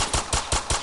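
A rapid burst of four evenly spaced gunshots, loud and sharp, fired in quick succession with nothing else heard.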